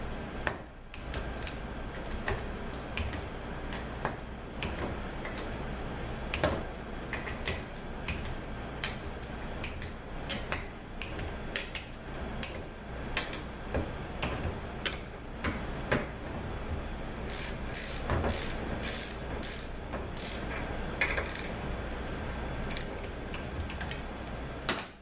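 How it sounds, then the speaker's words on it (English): A torque wrench clicks on bolts during a 6T70 transmission shift kit install, with sharp ticks and metallic clatter scattered irregularly over a quiet background. "let's torque the rest of the stuff"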